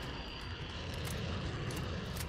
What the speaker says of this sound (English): this fucking chopper's scary